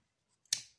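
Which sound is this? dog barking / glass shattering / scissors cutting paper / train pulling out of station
scissors cutting paper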